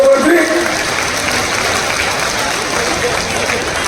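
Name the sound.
crowd applauding at a political rally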